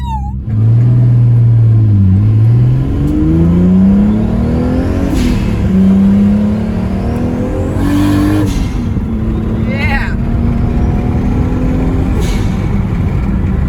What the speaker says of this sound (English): The blow-off valve works perfectly.